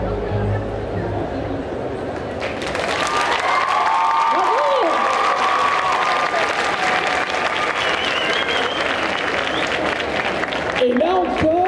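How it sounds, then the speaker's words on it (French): An indoor crowd at a cosplay parade during a geek festival in Angers, 2024, bursts into sustained, loud applause with some cheering. It runs unbroken for about nine seconds over a host's voice and crowd murmur. "On peut les applaudir encore."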